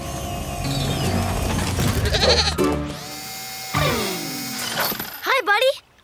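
A cartoon sheep bleats in a PAW Patrol episode amid busy cartoon-style sound effects and music, with clattering and a rising whoosh before a final wavering bleat.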